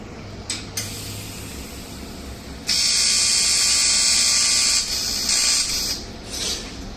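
A RILON TIG250 PACDC welder doing TIG welding: a few brief clicks, then a steady, bright, high-pitched buzz that holds for about three seconds and wavers before it stops.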